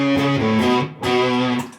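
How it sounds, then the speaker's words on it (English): Fuzzy, saturated electric guitar through a fuzz pedal into an amp's clean channel sustains a buzzing chord, pauses briefly, then strikes again with a thick, gritty tone. "here's back to the clean channel with the fuzz pedal."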